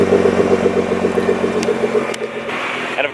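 Nissan GT-R with a newly fitted aftermarket exhaust idles steadily and close up, a low even burble running alone, with a couple of brief clicks near the end.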